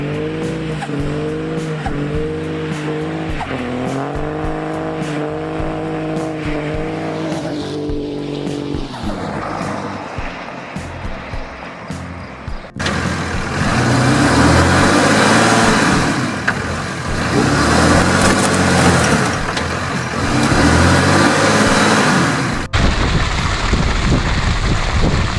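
Diesel trucks in a pulling contest strain against each other, engines wailing through shifting revs and then roaring hard in a loud, sustained, gritty blast with tire noise over a crowd-filled outdoor setting.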